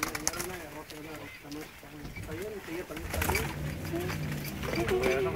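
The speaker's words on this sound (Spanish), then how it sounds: "Pues voy a criar palomas blancas." White pigeons kept by a rural farming household coo softly and repeatedly, mostly early on, beneath people talking nearby.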